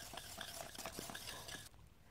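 Charcoal being crushed and stirred into pine resin: steady gritty scraping and grinding strokes in a repeated rhythm, close and moderately loud, stopping abruptly near the end.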